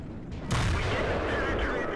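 In a World of Tanks battle, a tank cannon shell bounces off the frontal armour of an E100 heavy tank, giving a sudden loud blast that rolls into a sustained booming rumble.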